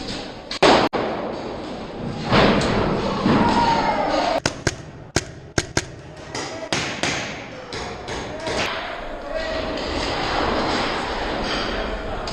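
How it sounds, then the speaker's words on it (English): An airsoft grenade is thrown and goes off during a zombie-themed game in a factory, giving a sharp thud or bang amid scattered loud impacts and shuffling, with players talking and shouting nearby. "He's throwing a grenade."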